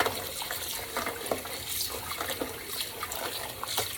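Water runs from a sink tap over a pork roast being washed with vinegar. The stream is a steady, close splashing trickle with small irregular sloshes throughout, without talk.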